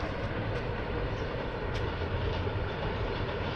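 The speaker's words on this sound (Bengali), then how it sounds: "একটা মালগাড়ি যাচ্ছে।" A freight train rolls past near Ghatshila in Jharkhand, giving a steady, loud, continuous rumble of wheels and wagons with no break and no voices over it.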